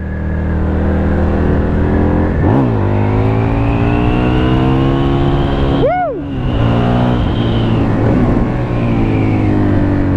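A close Husqvarna Nuda 900R motorcycle engine revving and accelerating through gears, pitch climbing repeatedly with a brief shift dip midway, loud and continuous.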